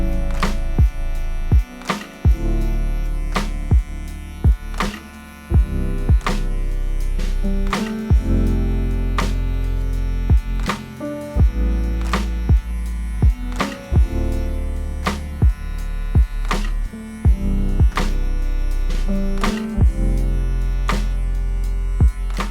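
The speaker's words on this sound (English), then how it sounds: "turn on your clipper and let's get our first line in" Electric hair clipper humming steadily close by while tapering a man's beard line, a constant buzzing drone with regular sharp clicks or taps punctuating it throughout.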